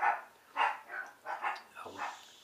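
Puppies barking, a series of small high yips and short barks in uneven bursts, fairly close but quiet.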